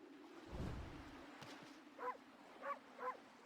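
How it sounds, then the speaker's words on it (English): A cartoonish dog character in the video game Okami gives three short yelping barks near the end, after a low thump, all fairly faint. "I'm barking at it because it's scary"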